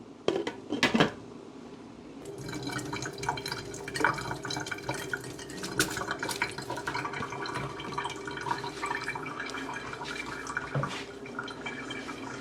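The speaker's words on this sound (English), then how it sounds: "I'm going to go ahead and start the process washing my rice" Rice being washed in water in a pot, with sloshing, dripping and light clinks of grains and utensil against the container, moderately close and continuous.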